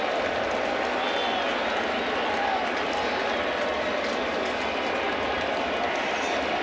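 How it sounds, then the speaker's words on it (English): Baseball stadium crowd on its feet during a Yankees–Red Sox game, a continuous loud roar of cheering and clapping that stays dense and even throughout. "Crowd on its feet."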